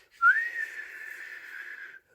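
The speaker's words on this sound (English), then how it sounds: "Went the whistle." A whistle is blown once in a single steady shrill blast lasting nearly two seconds, loud and alone with no talking over it.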